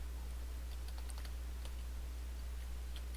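Light keystrokes tap on a computer keyboard, faint and scattered over a steady low electrical hum, with no voice.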